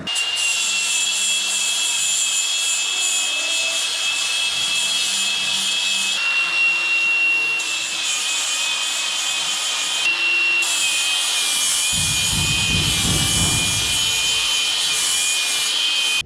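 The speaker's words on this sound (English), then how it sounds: "Give them a little grind up there, smooth them off, give them a little polish" A power tool grinds and polishes metal truck chassis brackets with a continuous loud high whine, its pitch dipping slightly at moments, plus a brief rougher rumble of contact near the end.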